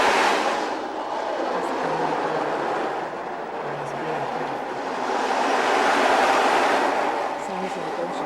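A dried jacaranda seed pod is shaken at a gardeners' meeting, giving a steady, soft hissing rush that swells and ebbs like ocean surf for several seconds, fairly close, with no speech over it.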